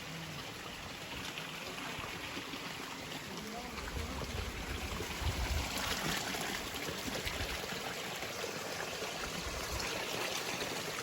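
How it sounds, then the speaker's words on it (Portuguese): A small stream of clean water trickling along a mountain trail in the Serra do Indaiá near Cunha, São Paulo, a steady, soft babble that swells slightly midway. "Olha, tem uma aguinha ali em cima."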